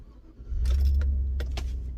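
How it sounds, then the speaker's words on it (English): A Chevrolet Silverado pickup truck starting up: a short crank and the engine catching into a steady low idle, with a few light clicks and jangles over it, close and alone. "start the truck"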